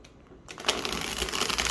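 A thick, slightly stiff tarot deck is riffle shuffled close by: a brief quiet pause, then a dense burst of rapid fluttering card snaps that continues steadily to the end.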